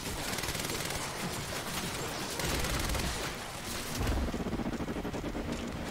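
Sustained gunfire from the Quantum Break video game, with a dense, continuous crackle of shots filling the whole stretch and a heavier burst near the end.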